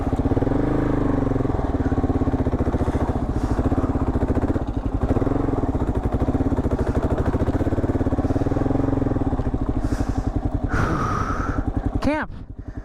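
A Kawasaki KLR 650 motorcycle rides through snow, its single-cylinder engine thumping in a fast, steady pulse up close, slowing and dropping near the end as a voice gasps.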